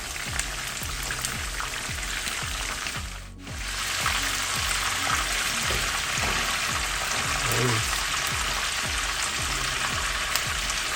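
Chicken pieces for Jamaican fricassee fry steadily in hot oil, a dense, even sizzle with crackling spatter throughout, briefly dipping once as the pieces are turned.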